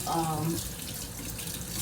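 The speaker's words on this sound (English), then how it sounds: "you could run cold water and that would help as well" A kitchen tap runs cold water into a sink while preparing an alkaline salad, giving a steady close hiss of flowing water throughout, with a brief voice-like murmur at the very start.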